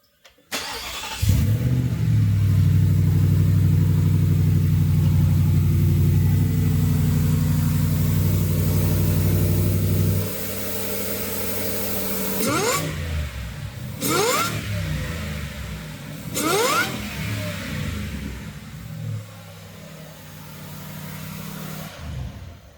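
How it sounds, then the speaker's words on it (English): A supercharged Ford Raptor R truck engine with an S&B cold air intake idles and revs under a high, rising supercharger blower whine, then settles into repeated revs with sharp pitch sweeps. "we want to hear what the blower sounds like"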